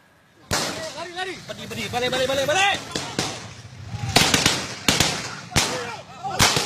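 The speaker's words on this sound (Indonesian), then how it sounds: "Polisi melepaskan tembakan ke udara saat massa melakukan perusakan dan pembakaran Mapolsek Bendahara" Police gunshots fired into the air crack out one at a time over a noisy crowd attacking and burning a police station in Aceh Tamiang, with shouting voices between the loud irregular bangs.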